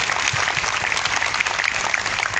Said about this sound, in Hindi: आइए एक ताली हम उनके लिए बजाएं.